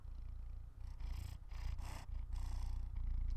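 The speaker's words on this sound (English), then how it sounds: "Can you hear him purring?" A cat purrs close up, a steady low rumbling vibration with breathy pulses, continuous and soft.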